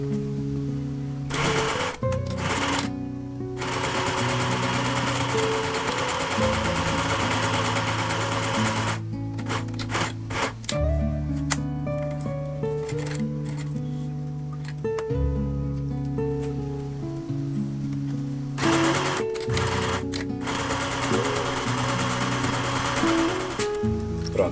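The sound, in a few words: sewing machine stitching a fabric bag lining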